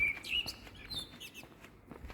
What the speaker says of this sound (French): Avec les petits oiseaux.